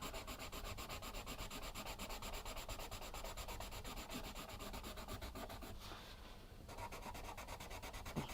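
A blender pencil rubs steadily back and forth over colored pencil on paper, making a close, continuous scratchy rasp with a brief lighter stroke near the end and no talk.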